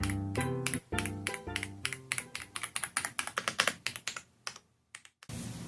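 A compact computer keyboard is typed on, with fast, crisp keystrokes in quick bursts close to the microphone and a brief pause near the end, mixed with a few tonal pings.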